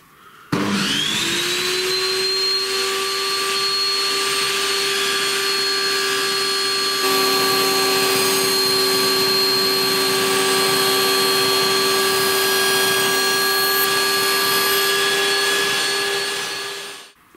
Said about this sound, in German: dann schalte ich die Tischkreissäge ein und fahre langsam das Sägeblatt nach oben.